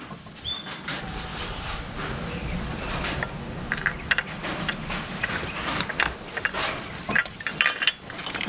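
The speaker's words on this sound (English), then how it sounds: "now I'm going to bolt on the K-tuned bracket" Metal clinks and ratcheting clicks as a K-Tuned shift cable bracket is bolted onto a 2002-2006 Honda CR-V, close and busy over steady background noise, with sharper taps toward the end.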